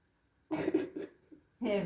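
A few short, wet coughs from congested bronchi, close to the microphone after a brief silence, then a harsher burst at the end.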